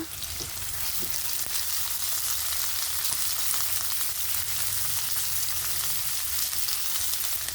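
Cumin, bay leaves, chopped onion and green chilli sizzle in hot mustard oil in a pan, making a loud, even, continuous crackle throughout with no talking.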